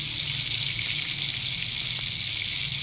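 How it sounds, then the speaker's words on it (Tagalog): Steady, bright sizzling of Hungarian sausage frying in a hot pan, constant and close. "nagpiprito ako ng agahan namin. Hungarian na sausage."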